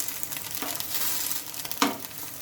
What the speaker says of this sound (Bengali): আর এক সাইডটা আমি ভেজে নিচ্ছি হালকা করে